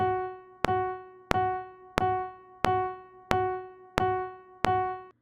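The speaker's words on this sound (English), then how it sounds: "Here's what the quarter note sounds like on the keyboard." A single piano-style keyboard note struck eight times as quarter notes at a slow, perfectly steady pulse, each tone ringing briefly before the next.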